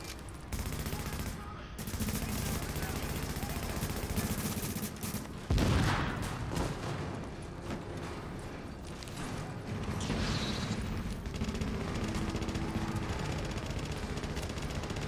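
Gunfire rings out during a co-op legendary mission in the shooter game The Division, with dense, sustained bursts and volleys running continuously and one heavier impact near the middle, layered over game ambience.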